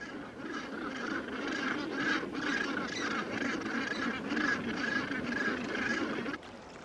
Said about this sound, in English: Nearby, gannets soar on long, narrow wings above an inaccessible rookery.